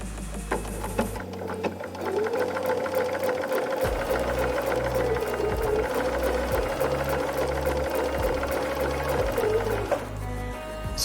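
A sewing machine stitches a quilt block for the Le Jardin quilt with a steady, fast mechanical whir that runs for about nine seconds before stopping. No one speaks.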